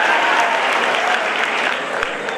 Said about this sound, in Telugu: సో ఉత్సాహంగా పాల్గొన్నటువంటి 4 స్టూడెంట్స్ కూడా ఒకసారి గట్టిగా క్లాప్స్ తో వారికి అభినందనలు తెలియజేద్దాం